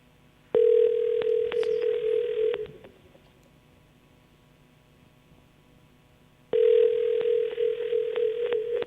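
A telephone line on a radio call-in show gives two long steady tones, one lasting about two seconds and the other starting after a pause of several seconds. Both are loud and clear over a faint hiss.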